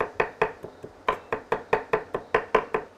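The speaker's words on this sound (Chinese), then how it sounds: "剁点生姜壳壳" A knife chops fresh ginger on a cutting board, about a dozen sharp, evenly spaced knocks in a steady rhythm, close and clear with no talking.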